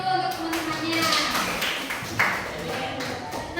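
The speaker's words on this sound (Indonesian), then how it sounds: "Tepuk tangan dulu untuk teman-temannya." High school students clap their hands in a classroom, a loose scatter of claps running steadily under a teacher's voice and chatter.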